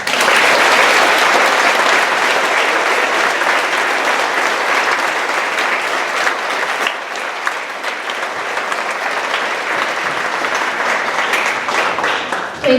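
Sustained, loud applause from a crowd of students and visitors at a Veterans Day program, honoring veteran guests, with dense steady clapping that holds for the whole stretch and eases slightly midway.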